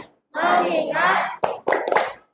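A class of schoolchildren plays the tepuk fokus clapping game, with a brisk burst of rhythmic group claps and chanted voices, followed by a few sharper separate clap beats.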